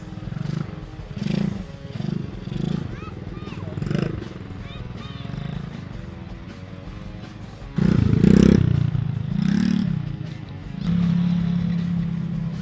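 A small motor vehicle engine is revved as gas is applied. The low drone rises and holds loudly in the second half, after people talk nearby.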